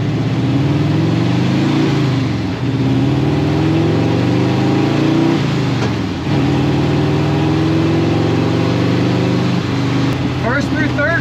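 A BMW 700 car with a swapped engine pulls onto a road, its mid-pitched engine droning steadily and rising and falling through revs, loud and close throughout, with a brief high squeak near the end.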